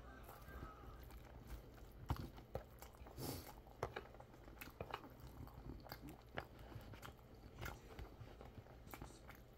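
Close chewing and biting of a home-cooked Korean meal being eaten by spoon, with soft irregular mouth sounds, clicks and utensil taps over a low steady room hum.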